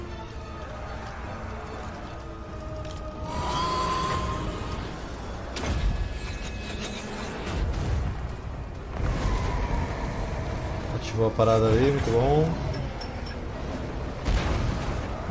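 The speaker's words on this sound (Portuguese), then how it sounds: "Canhão, tiro queima-roupa nesses caras aqui." Cannon fire and explosions in the Total War: Warhammer 2 battle game, with heavy booms and rumbling impacts scattered over a busy battlefield while someone talks over them.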